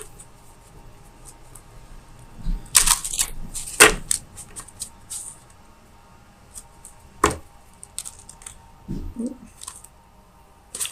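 Tarot cards being shuffled by hand, heard as a few sharp, papery snaps and flicks separated by long quiet gaps, fairly close with no talking.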